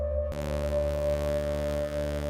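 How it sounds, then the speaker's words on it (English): A buzzy sub saw synth patch in Serum starts abruptly and holds as one sustained, steady, harmonically rich drone with a strong low fundamental for about two seconds. "there we've kind of added a sub saw here, just giving our sound like this buzzy sound"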